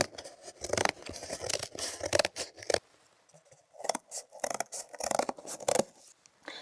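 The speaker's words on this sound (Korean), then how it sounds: "가위 이용해서 삼각형 모양으로 잘라 보기로 해요" Scissors snipping paper into a triangle for a paper barn craft, with bursts of quick crisp cuts, a short pause, then more close, fairly loud snips.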